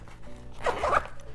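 A fanny pack zipper being pulled open, making one short, close, raspy zip.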